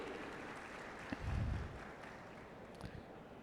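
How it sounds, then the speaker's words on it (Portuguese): Scattered, faint applause from an audience at a formal gathering welcoming the president of Brazil's Federal Council of Technicians; a short, fuller burst swells briefly, then fades back into a steady low background hiss. "Uma salva de palmas."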